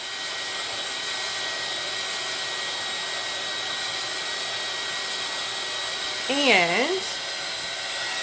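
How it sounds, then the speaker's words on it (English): A dryer dries chalk paste on a craft piece with a steady, close whirring blow throughout. A short warbling tone rises near the end, and a voice speaks briefly. "I am going to take my dryer,"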